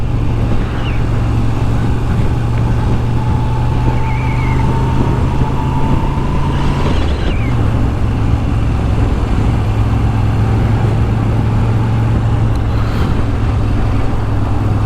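A Moto Guzzi V7 motorcycle rides along a road, its steady engine drone and wind rush holding constant throughout, with a brief shift in tone midway like a gear change.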